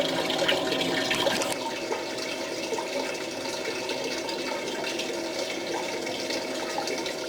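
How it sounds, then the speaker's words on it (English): Water runs steadily through a Blue Bowl gold concentrator used to separate black sand, giving a constant close rushing and trickling flow with a slightly louder burst near the start. "I'm going to shut off the water flow here."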